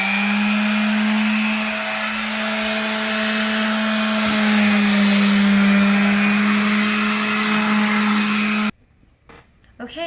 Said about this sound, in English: now I'm going to turn it on, and I'm going to start sanding